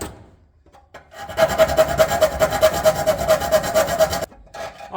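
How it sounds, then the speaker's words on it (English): A round file works a hole square in metal, giving a fast, even run of close rasping strokes that starts after a quiet moment and stops abruptly. "Now I'm filing this out to a square hole."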